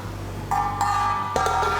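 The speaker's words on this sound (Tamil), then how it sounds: "இப்போ தட்டை மூடி வச்சிடலாம்" A metal lid clinks down onto a pot of fish curry with a couple of short ringing taps, then a final clatter over a quiet kitchen hum.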